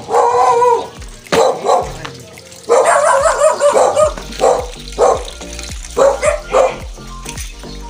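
Small shih tzu dogs barking repeatedly, a string of close, sharp yips and barks in irregular bursts, with faint background noise and a little talk.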